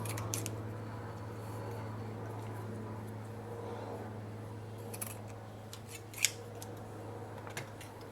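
Scissors trimming excess fabric while sewing child boxer briefs, a few faint, quick snips near the end over a quiet room hum.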